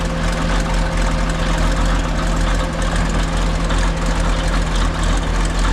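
A 1959 International dozer engine runs at a steady idle, a loud, close, continuous low diesel drone with a constant hum and no change in pace, and no one speaking.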